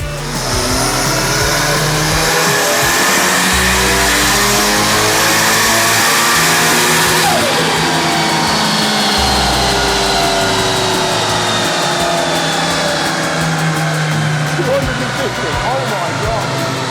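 A Toyota Sera engine revving hard on a dyno at 0.65 bar boost, a loud sustained engine roar with rising and falling pitch that fills the whole span, with some voices underneath.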